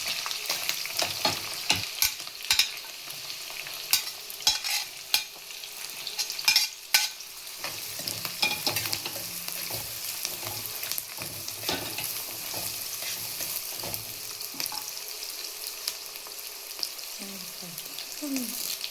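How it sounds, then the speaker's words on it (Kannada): Chopped green chillies and onions frying in a pan for vegetable poha (avalakki): a constant sizzle broken by frequent spatula scrapes and clattering knocks. "ಹಸಿಮೆಣಸಿನ್ಕಾಯಿ ಹಾಕಿ ಒಂದು 2 ಕಟ್ ಮಾಡಿರೋಂಥ ಈರುಳ್ಳಿ ಹಾಕಿ ಫ್ರೈ ಮಾಡಿ"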